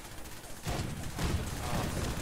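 Cannon fire aboard a pirate ship in Fallout 4, heard as a couple of heavy, booming blasts that start suddenly and roll into a dense, sustained rumble lasting to the end.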